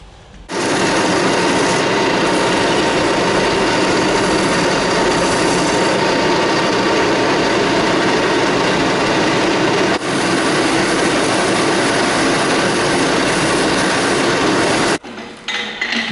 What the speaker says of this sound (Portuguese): Agora é só uma lixa então, seu Virgílio.